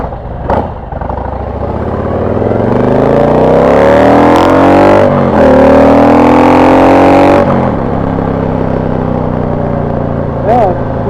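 Motorcycle fitted with a FuelMoto exhaust insert accelerating hard in second gear, its engine note climbing steadily and loudly before a brief shift and a second rising pull, then easing off.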